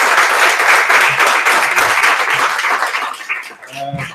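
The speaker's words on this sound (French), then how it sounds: "on voudrait applaudir M." Lecture-hall audience applauds the speaker Warren, loud sustained clapping from many hands that thins out near the end as a voice begins talking.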